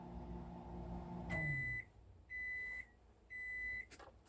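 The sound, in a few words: microwave oven beeping when cooking is done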